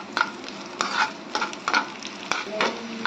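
Raisins frying in a pan for Tamil sweet pongal, with a steady sizzle broken by repeated sharp scrapes and stirs of a spoon against the pan. The sound is close and there is no talk.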